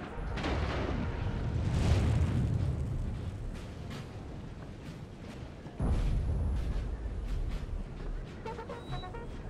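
Cannon fire and explosions in a Napoleon: Total War battle as Swedish forces: a dense, continuous roar of rumbling booms with a fresh heavy blast midway, loud and sustained without talk.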